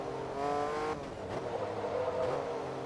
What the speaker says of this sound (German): Also wirklich ein Motor, der wirklich kraftvoll ist